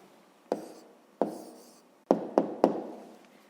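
Someone writes down the answer to a fifth-grade math exercise, making five sharp, close taps on the writing surface: two spaced strokes, then three quicker ones in a row, each with a brief scratchy tail.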